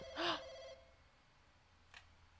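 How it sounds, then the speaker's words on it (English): A telephone rings in the Chinese horror puzzle game Firework: one bright, loud ring burst, then a fainter second chime over a low hum of room tone. "Okay, phone's ringing."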